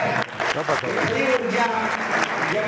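Loud, dense applause at an award ceremony honoring recipients, a continuous roar of many hands clapping close and steady throughout, with voices mixed in.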